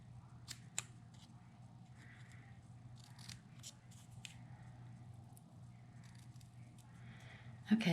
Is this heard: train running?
no